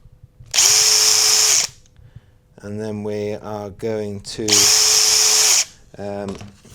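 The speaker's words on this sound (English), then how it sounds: "going to prop a little drill hole in each of these windows" Two loud bursts of a power drill whirring through wood, each about a second long, with someone talking between them.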